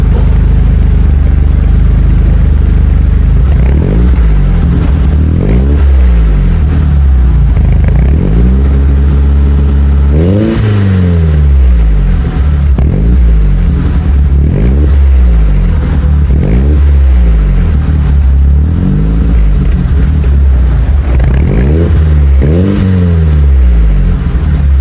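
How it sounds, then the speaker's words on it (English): A used BMW's engine idles and revs repeatedly at the exhaust, loud and close, with rising and falling surges every couple of seconds over a rough, smoky-sounding idle. "let me just place my phone at the back so you guys can properly hear how this BMW"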